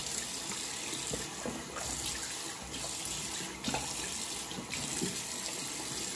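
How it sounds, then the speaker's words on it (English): Steady warm tap water splashing into a sink as a razor is rinsed, a continuous broadband wash with brief clinks and rinsing sounds, close by and without voices. "I do a warm water rinse first."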